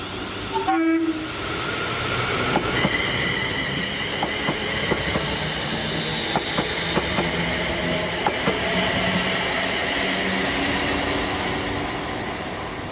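A heavy freight train hauled by Class 37 diesel locomotives 37424 and 37423 rumbles steadily past Paisley Gilmour Street station with a deep engine drone, a brief horn blast near the start, and clanking wagons and wheel noise throughout.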